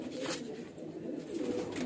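A highflyer breeder pigeon coos softly at close range, a low throaty purring coo that swells and repeats, with faint background noise and no voices.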